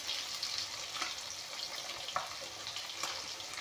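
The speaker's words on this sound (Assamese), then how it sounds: "এতিয়া ধুনীয়াকৈ ভাজি ল'ম মাছকেইটা অলপমান মৰমৰীয়া কৰি" Fish frying in a pan, a soft steady sizzle with occasional crackles and small knocks, quiet and close with no voices.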